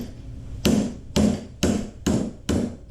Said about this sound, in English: I bent the bracket using a bench vise, vice grips, and a hammer